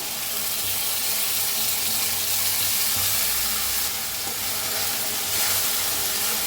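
Tomato paste from three tomatoes poured into a hot pan of frying onions for dhaba-style dum aloo, giving a steady close wet sizzle and splashy pouring hiss that holds loud through the whole stretch.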